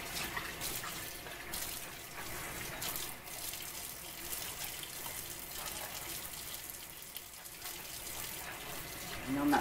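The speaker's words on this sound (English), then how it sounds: "I'm not supposed to let the water run, so let me turn this water off." Water pours steadily from a tap while rinsing a scrubbing dish cloth, a soft continuous splashing hiss at moderate distance, with faint handling noises.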